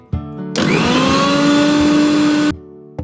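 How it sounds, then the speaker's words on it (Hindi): Mixer grinder coarsely grinding roasted spices for a green chilli pickle in a jar, a loud high-pitched whirring burst of about two seconds that starts and stops abruptly, with short clicks before and after. "पीसने के लिए एक मिक्सी के जार में ट्रांसफर कर लेंगे। इसे हम दरदरा पीसेंगे"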